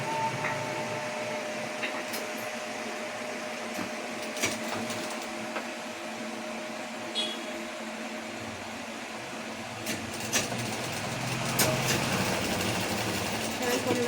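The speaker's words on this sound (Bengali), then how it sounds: "সেলাই করলাম" A sewing machine stitches fabric in a steady, close mechanical whir with a faint hum beneath and occasional sharper clicks and knocks as it runs continuously.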